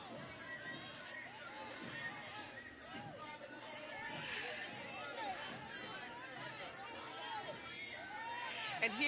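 A large crowd at a Martin Luther King Jr. Day parade on Broughton Street in Savannah keeps up a steady babble of overlapping voices and chatter, a dense continuous hubbub around the listener.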